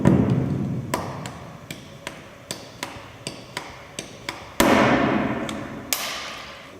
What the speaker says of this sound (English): The elements in the overlapping area are firmly fixed using the enclosed stainless steel rivets and